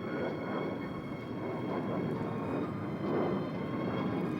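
A propeller airliner in an old science-fiction movie drones with a steady engine roar and broadband rumble as it comes in to land, holding constant and fairly loud throughout with no voices.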